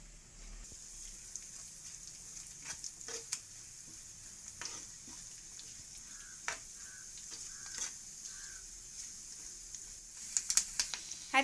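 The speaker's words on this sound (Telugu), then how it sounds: "నెయ్యి హీట్ అయిన తర్వాత పచ్చి కొబ్బరి ముక్కలు వేసుకుని వేయించుకోవాలి" Fresh coconut pieces fry in ghee in a kadai with a soft, steady sizzle, broken by occasional clicks and scrapes of stirring that grow more frequent toward the end.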